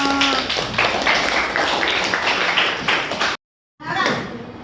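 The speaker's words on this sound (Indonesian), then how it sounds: "Tepuk tangan dong" Eighth-grade students in a classroom at MTs 2 Garut clap in a busy, continuous patter mixed with chatter. The sound cuts out abruptly for a moment, then resumes.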